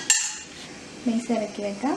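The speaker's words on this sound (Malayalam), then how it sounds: "ഇനി ഇത് തുറന്നിട്ട് ഇതിനകത്ത് നമുക്ക് ഈ ബേസ് ഇറക്കി വെക്കാം." A metal base is set down inside a hot, empty pressure cooker before baking an almond cake. A sharp metallic clank comes first, followed by a few lighter scraping rattles and rings as it settles.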